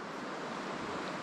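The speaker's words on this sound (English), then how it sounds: "Beautiful natural sounds of the water." Water of Long Creek in Arkansas flows in a steady, close broadband rush like gentle surf, with a touch of wind noise and no voices.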